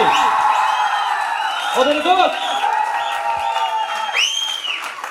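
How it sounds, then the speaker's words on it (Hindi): A crowd claps and cheers with scattered whoops and shouts, loud and continuous, while a voice speaks over the noise. "जोरदार ताली होनी चाहिए"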